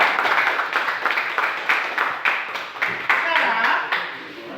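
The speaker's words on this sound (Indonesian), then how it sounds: "tepuk tangan untuk kita semua" A small group claps together during a classroom teaching session, the patter of hands rising and falling in a series of uneven rhythmic bursts, fairly close, with voices mixed into the clapping.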